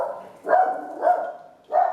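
A dog barks three times close by, evenly spaced short loud woofs with quiet gaps between them.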